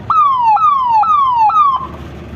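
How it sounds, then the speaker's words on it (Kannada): A loud electronic police and fire service emergency siren during a wartime preparedness demonstration in Chikkanayakanahalli taluk, Karnataka, wailing in repeated falling sweeps, about four cycles in quick succession, close and clear, then stopping. "ಇದು ಒಂದು ಸೈರನ್ನು ನೆಕ್ಸ್ಟ್ ಇನ್ನೊಂದು ಸೈರನ್ ಹೇಳ್ತೀನಿ"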